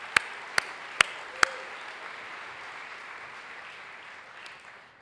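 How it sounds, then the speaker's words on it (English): Soft audience applause at an academic conference closing ceremony for competition winners, a low steady patter under four sharp, loud isolated claps or clicks near the start. "So a big round of applause for them."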